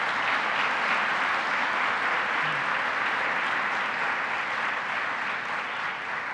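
Sustained, dense applause from a large audience for Onondaga County leader Ryan McMahon at a child care announcement, a steady loud wash of clapping with no letup across the whole stretch.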